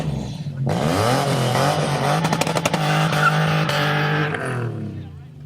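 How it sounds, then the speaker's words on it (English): A Mazda Miata on a touge run revs hard, its engine note climbing and holding loud and close with tire squeal mixed in, while voices talk over it. "that's Miata-chan revving up in a Miata"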